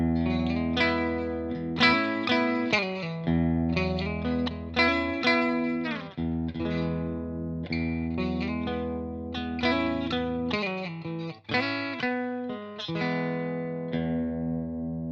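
Squier FSR Bullet Stratocaster played clean through the bridge pickup, a bright twangy electric guitar tone with strummed chords and picked single-note runs, close and steady throughout with no talking.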